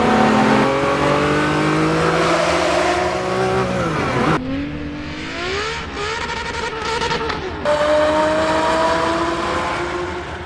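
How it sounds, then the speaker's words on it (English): Ferrari F50 with a naturally aspirated V12 revving hard, the engine pitch climbing and dropping through several gear changes, loud and close, with a brief lull before it screams upward again. "a great noise from the V12 naturally aspirated symphony"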